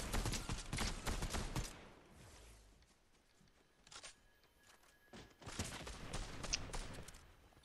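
Sniper gunfire in the battle royale game Fortnite: a cluster of sharp shots at the start, a lone crack in the middle, and another burst near the end, separated by quiet stretches.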